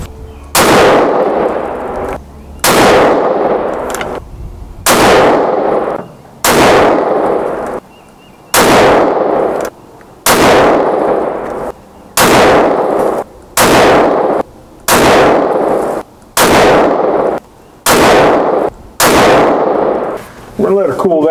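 Rifle shots from a rifle built on a Kauger action, each loud crack followed by a short ringing decay, fired singly at a steady pace of roughly one every one to two seconds, about a dozen in all, close by.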